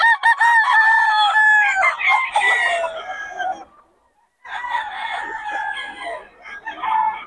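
Lemon gamefowl rooster crowing loudly and close, a long drawn-out call followed after a short pause by a second crow, with faint clucking and no talk.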